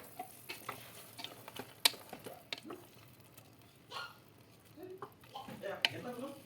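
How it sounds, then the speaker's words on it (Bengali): Chicken stew with a spoonful of ghee stirred in a pot: scattered soft scrapes and clicks of a spoon against the pot, fairly faint, with a voice talking between the strokes. "একটু নাড়িয়ে নেবো ভালো করে।"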